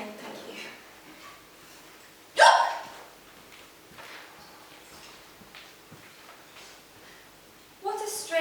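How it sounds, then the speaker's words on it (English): A woman hiccups once, a sharp loud catch, then goes quiet amid faint room sounds and soft movement, with another abrupt burst near the end. "I have the hiccups"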